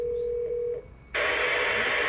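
Tones from a vintage AT&T Telehelper-2100 answering machine setup: a steady single tone holds for under a second, drops out briefly, then a louder, broader dialing burst runs to the end, close and clear with no talking.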